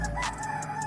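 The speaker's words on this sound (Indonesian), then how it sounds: "Maaf ya, banyak sekali ayam." A chicken crowing nearby, a steady sustained call running through the whole short moment, fairly loud and alone with no talk.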